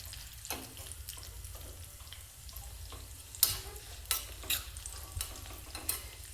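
Cashews frying in oil with spluttered cumin seeds for khara pongal: a steady close sizzle with several sharp stirring scrapes and clinks of a spoon against the pan, no voices.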